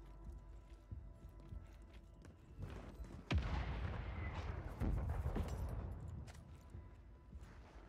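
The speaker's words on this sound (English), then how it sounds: "Mortar strike inbound now." Mortar strike explosions in the Warzone video game: a series of heavy booms, the first sharp and loud, then rumbling blasts with debris rattling, fairly distant.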